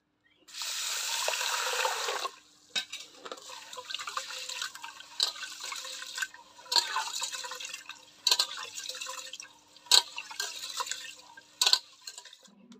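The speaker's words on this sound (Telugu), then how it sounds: "ముందుగా ఈ బియ్యాన్ని 1-2 సార్లు శుభ్రంగా కడుక్కున్నాను." Basmati rice being rinsed in water for egg dum biryani, with splashing and sloshing in bursts and brief pauses in between. The sounds are close and fairly loud, and there is no talk over them.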